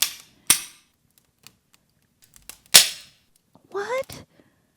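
Two sharp, loud gunshot-like cracks a couple of seconds apart, with faint clicks and rustles between them and a short vocal exclamation at the end.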